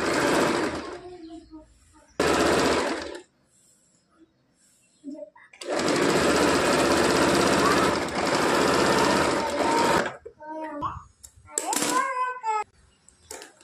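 A sewing machine stitches a yoke strip onto a katori blouse in long whirring runs, close and loud, separated by pauses with someone speaking.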